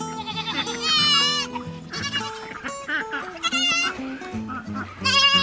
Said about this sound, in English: so it looks like we have a ton of goats